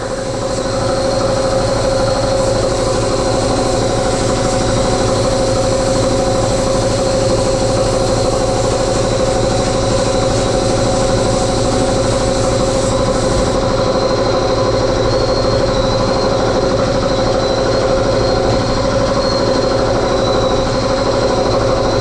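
A blast cabinet with its dust collector runs continuously, a loud, steady mechanical drone with a constant hum and hiss and no pauses, no voices heard.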